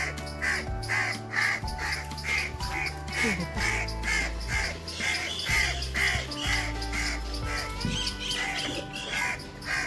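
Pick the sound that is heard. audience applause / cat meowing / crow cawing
crow cawing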